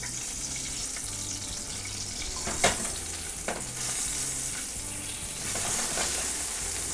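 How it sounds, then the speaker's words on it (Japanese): Eggplant fries in a frying pan, a dense continuous sizzle broken by a few sharp clacks and scrapes as pieces are flipped, close and without talk. "そこまで来たらナスひっくり返します。"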